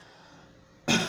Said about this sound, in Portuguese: Desculpa, pessoal, pela tossida.